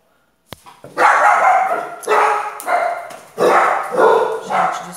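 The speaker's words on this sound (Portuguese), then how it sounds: "desculpa aí os meus cachorrinhos. Tem gente lá fora. Quando tem gente lá fora, quando eles escutam qualquer voz, sai que sai." Small dogs bark at people outside, a sudden burst of loud, close, high yapping that repeats in quick clustered volleys after a brief silent start, with no talking.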